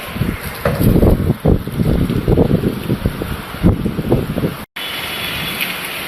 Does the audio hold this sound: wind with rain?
yes